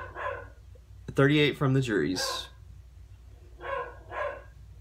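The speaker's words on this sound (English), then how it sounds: "That's my dog." Dog barking indoors during a Eurovision recap, a quick burst of several sharp barks and yips mid-clip between bits of a woman's speech.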